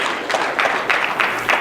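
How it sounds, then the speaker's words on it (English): A university class audience gives a slow clap, with about five evenly spaced claps in a deliberate rhythm over a faint room background. "Slow clap, yes, yes."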